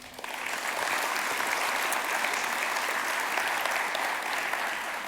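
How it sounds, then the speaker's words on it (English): A church audience gives a steady, full round of applause, dense and continuous throughout, swelling in quickly at the start and holding at an even level without voices. "So would you give a round of applause"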